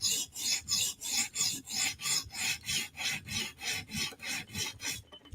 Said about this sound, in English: you just have to do a quick pass to flip the burr to the other side